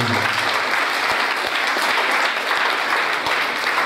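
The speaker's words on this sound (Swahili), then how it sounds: "Tumpige Bwana Yesu makofi." A church congregation applauds during a sermon, a continuous even wash of many hands clapping that fills the room, with a few sharper thumps standing out and no talk.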